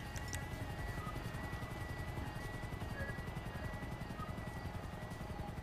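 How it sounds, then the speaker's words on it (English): A helicopter in GTA 5 Adversary Mode makes a quiet, continuous rotor chop, its rapid steady beating heard faintly and evenly throughout, with no voices. "Got the helicopter."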